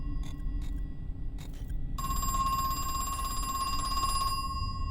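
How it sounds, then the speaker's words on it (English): A telephone rings in the horror video game Crow Country, a couple of short metallic bell bursts followed by a long sustained electronic ring over a low ambient drone, with no voices. "Well, let's answer the phone."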